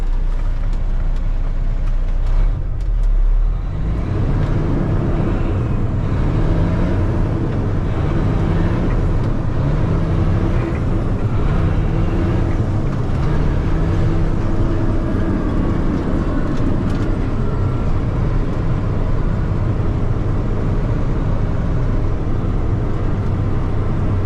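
A diesel dump truck runs with its PTO engaged, giving a steady, close, heavy engine rumble with a low throb that holds unchanged throughout, with no talking.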